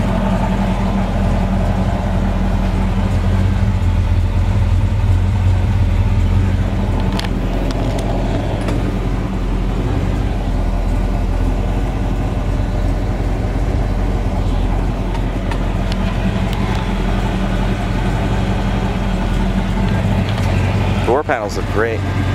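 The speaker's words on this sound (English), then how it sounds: "Exhaust with oval tips. Sounds like he's got Flowmasters on there." A 1972 Chevrolet Chevelle SS with a 396 big block and Flowmaster exhaust through oval tips idles with a steady, deep low rumble throughout, loud and close, with faint background sounds near the end.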